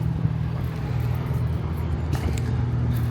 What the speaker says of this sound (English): There goes a truck